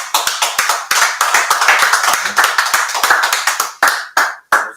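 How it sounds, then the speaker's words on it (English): Rhythmic, close clapping from a class audience in Harlem, New York: sharp, loud hand claps in a quick steady beat that slows and thins out into a few separate claps near the end. "Let's go ahead and clap it up."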